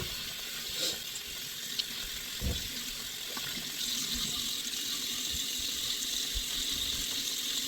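A tap runs with a steady, close hiss of water into a sink during face washing, with a few small splashes and knocks over the continuous flow.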